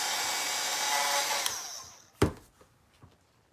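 A handheld heat tool blows a steady hot-air whoosh over Mod Podge on a craft tag for about two seconds, then cuts off and leaves a sharp click and a few faint taps.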